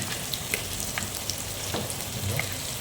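Two large onions fry in a pan for mutton intestine curry, giving a soft, steady sizzle with light crackles and occasional stirring clicks, fairly quiet and close, with no voices.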